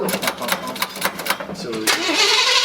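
The engine of a restored 1972 Chevrolet C10 pickup cranks with rapid rhythmic starter turns for about two seconds, then catches and settles into a rough, close idle, with people talking nearby.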